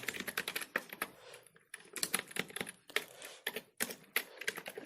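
Rapid, uneven clatter of keystrokes on a computer keyboard while C code is typed, bursts of clicks with brief pauses between them, close and fairly quiet, with no voices.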